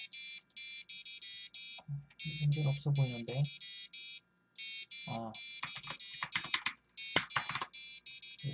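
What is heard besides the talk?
Arduino ramen timer buzzer sounding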